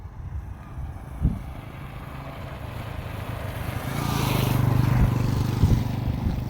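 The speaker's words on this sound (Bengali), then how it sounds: "অনেকক্ষণ পরে একটা মোটরসাইকেল গেল" A single motorcycle on a quiet, otherwise empty road rises from a distant hum to a closer, louder engine drone before easing off, with wind noise throughout.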